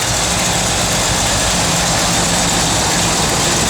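A 1963 Chevrolet Impala engine idles steadily up close, a low, rough rumble with a slightly uneven, loping pulse from a mild cam running through it.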